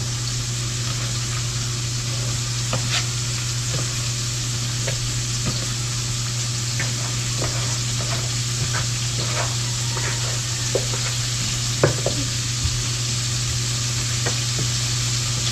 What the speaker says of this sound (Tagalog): Tapos mamadali ka pang prito.